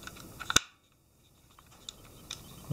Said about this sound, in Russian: ставлю на затворную задержку.